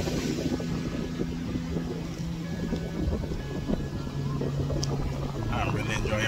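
Strong wind gusting outdoors in Puerto Rico, a loud continuous rumbling buffet that persists through the whole stretch with a person talking over it.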